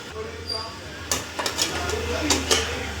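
Containers of sabudana vada batter are set one by one into an idli steamer pot of heated water, giving a few sharp metallic clinks and knocks over a low steady hum.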